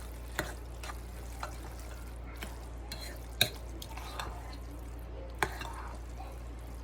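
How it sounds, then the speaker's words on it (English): Powdery macaroni and cheese sauce stirred in a pot: faint, sporadic soft scrapes and light spoon taps, with a few sharper clicks against a quiet background and no talking. "it's going to take some more stirring to get the powdery chunks gone"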